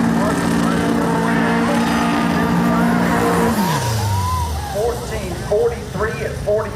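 Drag race cars launch off the line at a strip, with a loud engine drone that sweeps downward as they pull away, then a jumble of track noise and distant sounds.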